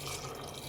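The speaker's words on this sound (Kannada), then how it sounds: "ಇನ್ನೊಂದು ಸ್ವಲ್ಪ ನೀರು ಹಾಕ್ತೀನಿ" Water pours into a pot of chicken sambar on the stove, a soft continuous splashing and trickling wash over the whole short moment.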